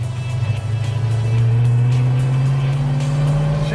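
A 1969 AMC SC/Rambler muscle car engine revving up close, a loud deep rumble that climbs in pitch and holds at higher RPM, with no one talking over it.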